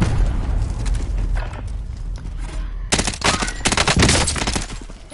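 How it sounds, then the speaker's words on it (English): Loud video game gunfire, with a scattered volley of shots at first and then a denser, heavier burst of rapid fire in the second half. "Taking fire over here! Taking shots!"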